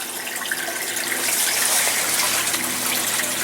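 Water pumped by a Laguna pump pours steadily into an aquaponic grow bed in a garden, a continuous close gushing splash with no voices.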